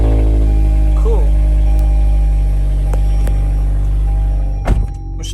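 A 2022 Toyota Camry LE idles with a steady low exhaust rumble and hum, a few faint clicks, then a door thunks shut near the end.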